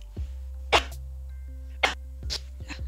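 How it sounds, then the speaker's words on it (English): A person sneezes during a Football Manager 2024 session: a few sharp, close bursts spread across the moment, over a steady low electrical hum and faint tones, with no talking. "Oh, pause, I'm gonna sneeze."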